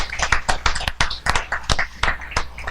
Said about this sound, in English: Probably the clap started by somebody who knows that,